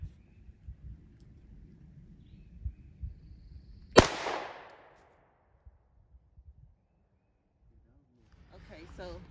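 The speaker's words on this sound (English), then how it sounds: "So my son is about to fire now." A single sharp handgun shot fired during a family gun safety session at a range, loud and close, with a short ringing decay, after low background murmur and followed by quiet, then faint talking.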